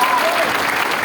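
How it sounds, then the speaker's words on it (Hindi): Audience applause at a gathering, a brief burst of dense, steady clapping with a voice briefly heard over it. "सबके लिए जोरदार ताली होना चाहिए।"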